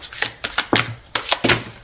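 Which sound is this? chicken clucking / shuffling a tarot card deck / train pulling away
shuffling a tarot card deck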